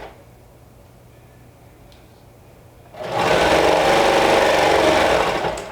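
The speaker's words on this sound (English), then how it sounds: "now we're going to stitch this down with 1/4 inch seam allowance" Quiet room tone gives way to a sewing machine stitching an anchor pocket onto a skirt, a loud, steady whirring run of rapid needle strokes close by for the last few seconds.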